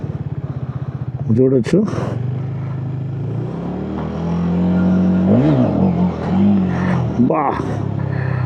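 A Hero Xtreme 250R motorcycle pulls a wheelie, its engine giving several sharp rising revs between a steady idling throb, close and loud, with someone speaking briefly.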